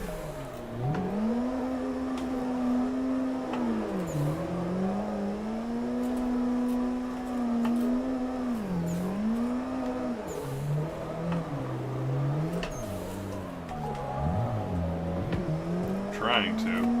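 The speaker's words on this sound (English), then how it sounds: "We are drifting on Seto Naikai circuit in Assetto Corsa." Simulated drift cars on the Seto Naikai circuit in Assetto Corsa, an engine droning and revving in rising and falling waves with brief tire squeal, steady and close throughout.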